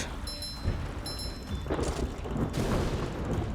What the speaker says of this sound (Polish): Dobrze wybuchło.